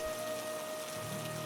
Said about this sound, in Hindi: इस बारिश में कौन सा काम कराऊं गोपाल?